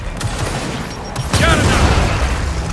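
A frag grenade blast in the video game Gears of War 4: a loud boom partway through, followed by rumbling and scattered gunfire, with voices mixed in.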